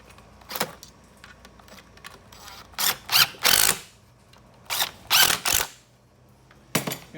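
Power drill driving screws into a wooden balcony table during assembly, several short whirring bursts, some in quick pairs and triples, separated by quieter handling noise, fairly close.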